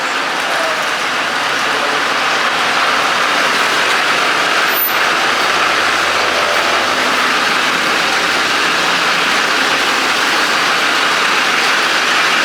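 A truck engine rumbles steadily at close range as it drives onto a two-post garage lift, a continuous heavy drone with a brief hiss partway through and no talking.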